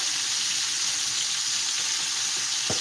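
Thickly sliced onions sizzle and fry in a hot pan, a steady loud crackling hiss throughout with a brief stir or clink near the end, with no talking.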